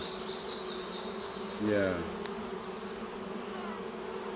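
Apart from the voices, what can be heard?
bees buzzing around a top bar hive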